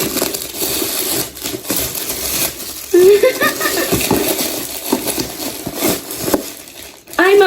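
Gift wrapping paper is torn open by hand in irregular crinkling, ripping bursts, with someone talking over it.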